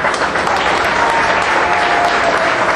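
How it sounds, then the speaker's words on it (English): Loud, sustained applause from a crowd on a backlot tram tour, dense clapping holding steady throughout without pause. "Let's give a big round of applause for our wonderful Captain Virginia and your great crew of Jonathan and Ray."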